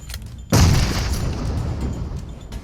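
A single deep boom of a grenade explosion in the video game Metro Royale bursts suddenly, then rumbles and fades into a lingering noisy tail.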